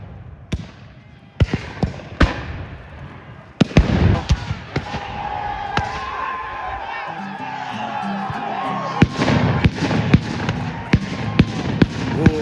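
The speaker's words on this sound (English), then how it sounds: "The battle's beginning. The cannons are roaring." Cannons and guns fire at a Civil War reenactment battle in Jefferson, Texas: sharp booms and cracks recur irregularly across the field at varied distances, over a steady outdoor murmur with crowd sounds.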